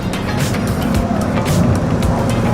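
A turbocharged BMW 335i pulls hard in first gear, its engine drone steady and loud from inside the cabin with a continuous broadband rush of road and intake noise and no voices.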